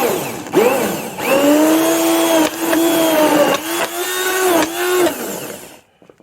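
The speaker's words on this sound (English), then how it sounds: "I'm going to sort of blend it together." Cheap hand blender whirring through wild garlic and organic cabbage soup in a home kitchen, loud bursts of motor whine that rise and fall in pitch, with brief pauses between pulses and no talk.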